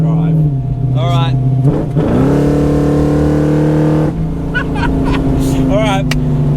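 A fast car accelerates hard in short bursts with its tyres breaking loose, the engine loud and close as it revs up, shifts and climbs again.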